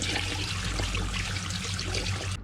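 Tap water runs steadily over freshly demolded resin coaster pieces as they are rinsed at a sink, a continuous close hissing splash that holds even for a couple of seconds and then cuts off.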